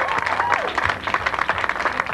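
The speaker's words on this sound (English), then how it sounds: "Let's have a round of applause." Applause from an audience, a steady wash of clapping and crowd noise filling the whole stretch, fairly loud with a voice mixed in.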